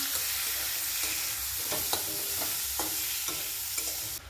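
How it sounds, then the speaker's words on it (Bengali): Grated spices with turmeric and chilli sizzle loudly in a pan for a rohu fish and ridge gourd curry, with repeated spatula scrapes every half second or so over the continuous hiss. "মশলাটা ভালো করে কষে নিয়েছি"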